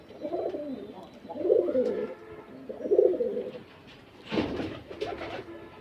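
Domestic pigeons cooing close by, three low rolling coos in a row, followed by a brief burst of noisier rustling or flutter.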